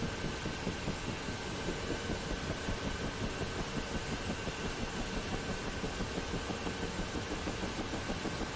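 An aircraft engine roars continuously with its throttle stuck wide open, a steady, unbroken drone at constant pitch and volume with no pauses.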